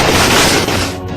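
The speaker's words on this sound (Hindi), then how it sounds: "ओवरब्रिज के ऊपर लोगों ने आतिशबाजी शुरू कर दी" Fireworks set off on an overbridge during a street celebration for police, a dense, continuous crackling and booming roar that fills the short stretch, loud and unbroken.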